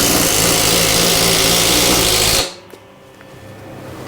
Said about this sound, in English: let's drill a hole right here